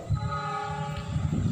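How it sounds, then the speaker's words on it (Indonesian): A locomotive of the Lodaya passenger train sounds a sustained, steady horn blast as it approaches a station, with low rumbling of rail traffic underneath. "semboyan 35 dari lokomotif kereta api Lodaya sudah terdengar"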